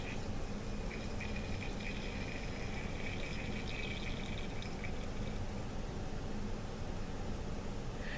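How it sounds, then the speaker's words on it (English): Rinse water drains from a volumetric pipette into a waste container as a faint, steady trickle with light drips over a hissy background, continuous and close, with no voices. "just let it drain into your waste container."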